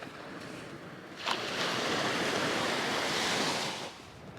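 Waves breaking on a beach in Spain, a steady broadband wash of surf that swells from about one and a half seconds and fades near the end, with some wind noise on the microphone.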